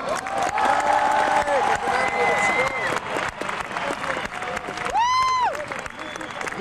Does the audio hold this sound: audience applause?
yes